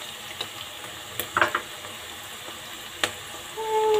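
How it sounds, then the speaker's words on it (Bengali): Onion and green chili fry gently in a pan, a low steady sizzle punctuated by a few sharp stirring clicks and scrapes, ending with a brief rising hiss, all near and without speech. "তো পেঁয়াজ আর মরিচটাকে হালকা করে ভেজে নিলাম"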